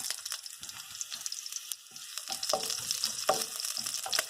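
Beef chow fun being stir-fried and tossed in a hot pan, a steady sizzle with scraping, clattering strokes of mixing that grow a little busier partway through, with no one talking.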